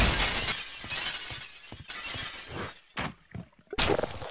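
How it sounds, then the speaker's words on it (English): In the video game Shephard's Mind, window glass is smashed by a kick, giving a loud, close shattering crash followed by several further bursts of breaking and tinkling glass. "I just smashed through a window"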